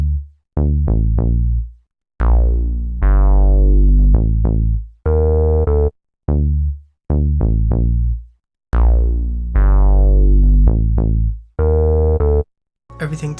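Layered UK drill bass synth patches playing a stop-start pattern of sliding, gliding low notes with sharp gaps between phrases, loud and upfront with no drums.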